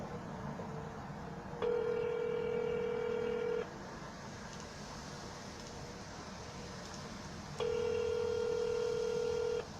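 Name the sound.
telephone dialing tones while placing a cold call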